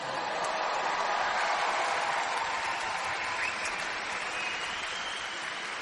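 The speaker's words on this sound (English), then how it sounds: "Stop your condescending clapping" Applause from an orchestra fills the hall at a steady, dense level throughout, a continuous wash of many hands clapping with no voices on top.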